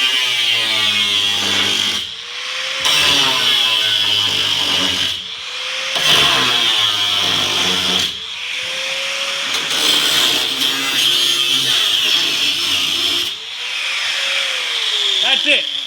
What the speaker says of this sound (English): I'm only cutting about 3/4 of an inch down into the steel